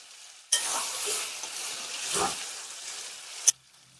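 Chicken for a cauliflower curry sizzles steadily in a hot pan as it is stirred and sautéed, with a bright crackling hiss, a scrape of the spoon midway, and a sudden stop when the heat drops.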